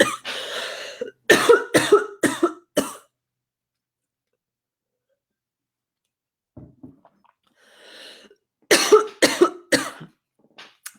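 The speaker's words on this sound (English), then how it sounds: "excuse me, I'm coughing" Several sharp coughs in a quick cluster, close and fairly loud, then a long quiet gap with faint shuffling before another rapid burst of coughing.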